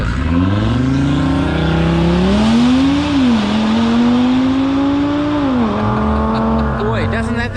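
Hyundai i20N hot hatch accelerating hard on a country road, the engine note climbing loud and close through the gears, with a dip at each shift before it rises again.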